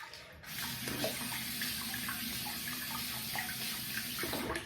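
Water runs steadily from a bathroom tap during a shaving session, a continuous hiss and splash close by that holds through the whole stretch with no talk over it.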